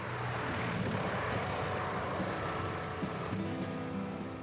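A small, light surveillance plane flies past at a distance, a steady, fairly faint propeller engine drone that holds throughout with a slight shift in pitch, with no voices.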